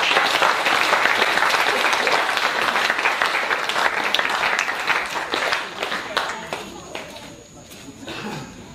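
Congregation applauding at a revival meeting in Taravao, French Polynesia, sustained dense clapping from a large crowd with a voice speaking over it, thinning out toward the end.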